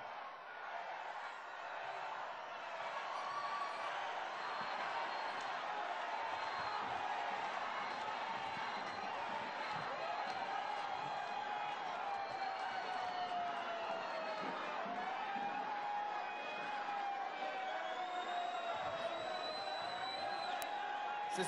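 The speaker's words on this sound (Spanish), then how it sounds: "Se suponía que el abucheo ya había pasado." Large crowd at an event for the Mexican president Andrés Manuel López Obrador, loudly jeering and booing in a dense, sustained roar with whistles and shouts that never lets up.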